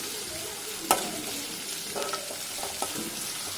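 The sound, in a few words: sautéing onion and garlic in oil in a pan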